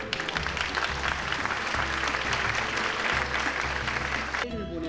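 Steady audience applause for director Kim Ki-duk at a fan talk event, a continuous wash of clapping over a low, pulsing background, cutting off abruptly near the end.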